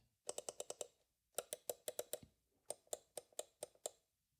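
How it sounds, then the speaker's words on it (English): Crisp plastic trackball button clicks come in three quick runs of about six to eight presses each, close and distinct against near silence. "That's some good clicking."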